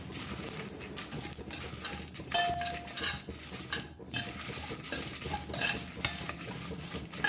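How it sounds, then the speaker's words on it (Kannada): Chillies and curry leaves dry roasting in a pan, heard as repeated scraping and clinking of a spoon stirring against the metal with a faint dry rustle, steady and close with no talk. "ಇದನ್ನು ಸ್ವಲ್ಪ ಡ್ರೈ ರೋಸ್ಟ್ ಮಾಡ್ಕೊಳ್ಳಿ."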